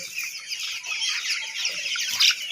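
On a poultry farm, many chickens cluck and chatter close by in a dense, continuous flock chorus, with one sharper squawk near the end.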